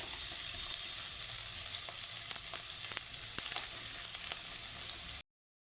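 Chopped onions fry lightly in butter in a pan, giving a close, steady sizzling hiss with scattered faint crackles, continuing alone until a sudden cut to silence near the end.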